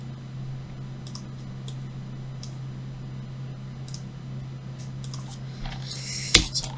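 Faint, sparse computer keyboard clicks tap out at irregular intervals over a steady electrical hum, ending with a sharper clatter.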